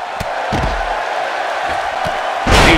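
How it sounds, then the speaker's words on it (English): Loud arena crowd noise from a wrestling video game set in Tokyo, with a few thuds, swelling into a burst of cheering near the end. "just listen to this Tokyo crowd"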